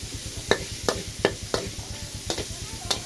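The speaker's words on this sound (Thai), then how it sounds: "สาวดอยจะชอบผัดหมู ให้มันสุกก่อน" Pork stir-fried in a hot pan: a short run of rhythmic spatula scrapes and clacks, about six sharp strokes over a sizzling bed, close and clear, with no talking.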